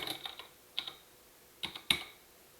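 Sparse keystrokes on a computer keyboard during a programming class, a few soft clicks in small clusters, quiet and close with no talking.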